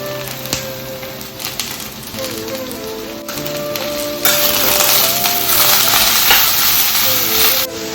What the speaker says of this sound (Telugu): సో ఇప్పుడు క్యాబేజ్ అయితే కొంచెం ఫ్రై అవుతుంది